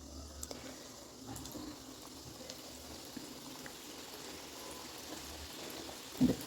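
Samosas deep frying in hot oil over a low flame, a soft continuous bubbling sizzle with scattered small crackles and pops, fairly quiet and steady throughout.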